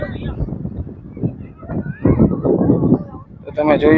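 At a beach, a horse lets out a whinny near the end, while people talk throughout.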